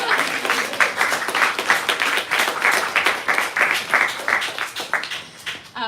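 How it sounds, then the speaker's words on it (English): Steady applause from a crowd, a dense patter of many hands clapping continuously at moderate loudness with no pauses. "Can I have clap for the staff?"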